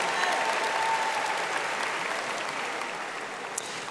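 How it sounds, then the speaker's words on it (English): Steady applause from a graduation audience at a 2022 high school ceremony, a dense wash of many hands clapping at even loudness throughout, with no voices above it. "Let's give your counselors a round of applause."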